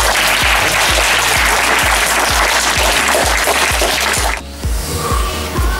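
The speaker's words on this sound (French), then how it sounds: "On peut tous applaudir et merci à vous." An audience at a family judo demonstration claps together in a steady, rhythmic beat, loud and sustained, thinning out near the end.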